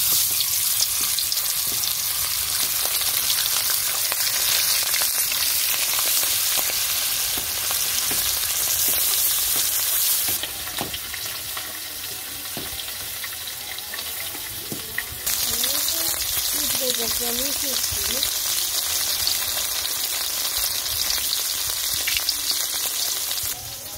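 Fish fries in hot oil with a loud, constant sizzle and crackle close by, broken by occasional stirring clinks and a brief dip in level midway, and a faint voice appears near the end.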